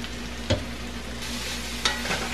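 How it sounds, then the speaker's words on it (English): Swiss chard and onions sizzle and fry steadily in a pan, with a couple of sharp clinks of a utensil stirring at intervals; no one speaks. "Then we're going to add that wonderful green Swiss chard."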